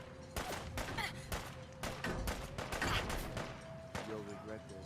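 Raiders in Fallout 4 trade gunfire, with sharp shots and short bursts cracking irregularly through the scene, moderately close and punchy over a steady game tone.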